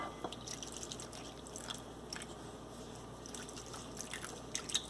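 Faint dripping and splashing of water into a thick rawa dhokla batter, quiet and close, with soft wet squishing.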